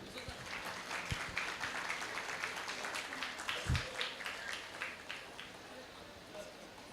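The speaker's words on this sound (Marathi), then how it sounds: "सरांसाठी टाळ्या होऊन जाऊ देत." An audience claps at a university youth festival prize-giving and closing ceremony, and the applause builds into a sustained, fairly faint wash. A voice over a loudspeaker talks over it.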